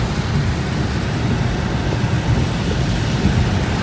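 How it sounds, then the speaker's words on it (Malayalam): Steady, dense monsoon rain pours without a break, heard from inside a car, a broad constant wash of noise with no voices. "നല്ല മഴയുണ്ട്, നല്ല മഴ പൊടിയുണ്ട്."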